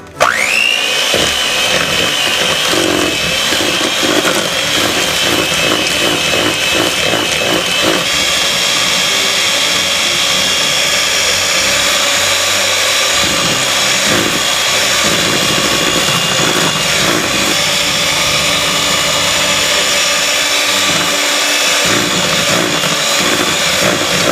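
An electric mixer whirs loudly and continuously while eggs are beaten one at a time into red velvet cake batter, its high motor whine shifting in pitch as the beaters churn, with no speech.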